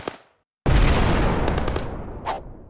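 A grenade blast in the video game Operation Warcade comes after a brief silence: one loud, booming explosion with a long rumbling decay, followed by a few smaller pops.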